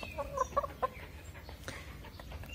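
Several chickens cluck softly and close by at a scattered feeding spot where commercial feed with a supplement is set out, with a cluster of short clucks early on and quieter pecking and rustling after that.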